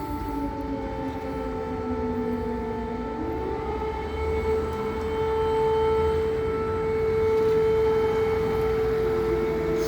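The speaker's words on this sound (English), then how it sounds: "So the sirens go off, but people still walk around the streets" Air raid sirens wail across a Ukrainian city as a steady, sustained tone that shifts pitch partway through and swells slightly louder toward the end, with no voices.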